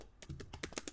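Quick, quiet keystrokes on a computer keyboard, about half a dozen soft taps in roughly one second, heard alone.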